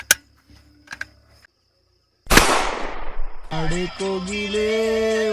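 A single sharp, loud blast from a gun fired to scare off elephants near a tribal village rings out and decays with a long echo, followed by music starting; a few faint clicks come before it.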